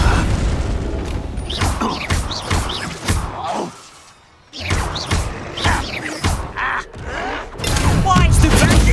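Loud spell blasts and heavy thumps from Hogwarts Legacy combat, with a Flipendo knockback spell hitting amid crashing impacts and game music, in bursts with a brief lull midway, voices shouting over the fray.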